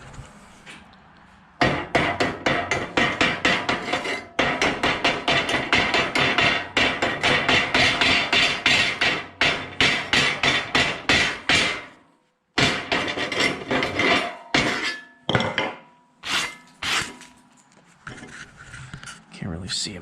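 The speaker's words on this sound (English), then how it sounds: "let's chip the slag off these puppies and see what we got" Rapid metallic slag hammer strikes chip slag off stick welds made with 7018 rod, close and loud in dense bursts, with brief pauses and a stretch of scattered, slower taps near the end.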